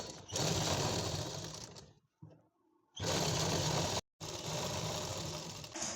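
A sewing machine stitches the side seam of an Afghani palazzo in close, loud bursts, running hard for about two seconds, stopping briefly, then starting again twice more with a short gap between runs.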